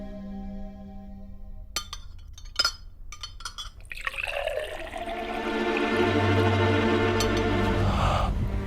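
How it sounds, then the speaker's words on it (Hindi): Water pours into a glass in a quiet home scene, a steady liquid fill rising in pitch over several seconds. "प्रीति, पानी लेके आओ बेटा।"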